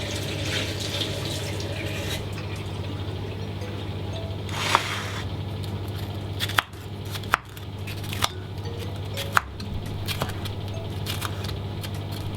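Tap water runs steadily into a kitchen sink as bream is rinsed, a continuous splashing hiss with a low hum beneath and a few sharp knocks and clinks from handling.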